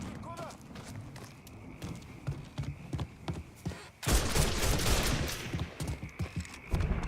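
Video game gunfire from Mafia 3 crackles in rapid, repeated volleys, swelling into a dense, louder barrage halfway through, with shouting voices mixed in.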